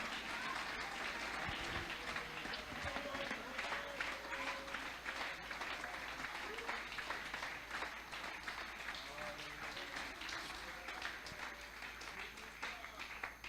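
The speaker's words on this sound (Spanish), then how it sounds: "Un aplauso a mi Dios" Church congregation applauding during a Spanish-language sermon, sustained clapping over a low hum with voices murmuring underneath, fairly faint.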